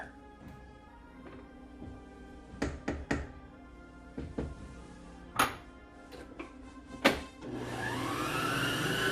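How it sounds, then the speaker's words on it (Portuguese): An electric stand mixer runs with a steady motor hum while a Camille Desmoulins cake is made in a home kitchen, mixed with scattered knocks and clunks of bowls and utensils, and the whine rises toward the end. "Eu adoro essa batedeira que a Liana me deu"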